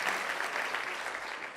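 Audience applause at a keynote talk, a steady wash of clapping from a large crowd filling the room, with no voices on top.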